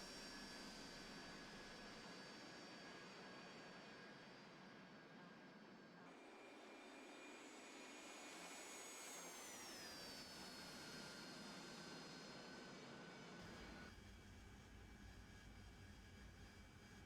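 Jet engine drone in the DCS flight simulator as an aircraft approaches a KC-135 tanker for air-to-air refuelling, a steady loud whine with high tonal lines that sweep down midway, no talking.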